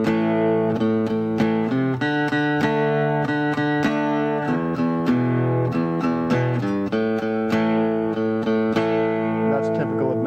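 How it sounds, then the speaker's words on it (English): Electric guitar plays a progression of open-position power chords mixed with open strings, a steady, bluesy rock rhythm of repeated strummed chords and single-note runs, loud and alone. "I put a little progression together on the transcripts that uses those open position power chords and a couple"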